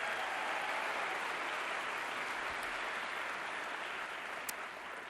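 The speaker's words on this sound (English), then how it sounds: "So please give him a big round of applause." Sustained applause from a large audience at Stanford University, steady and dense for the full five seconds without pause or talk over it.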